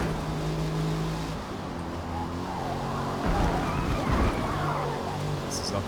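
Car sliding sideways in Forza Motorsport during a career race, engine droning steadily with a rising rough scrubbing of tires through the middle, loud and continuous.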